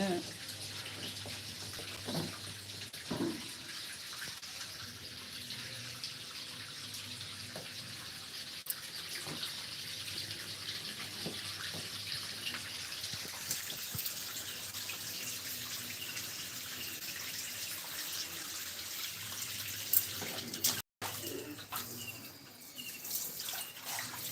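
A tap runs steadily as water is collected, a soft continuous rush with faint drips and splashes, fairly quiet in the background while people talk.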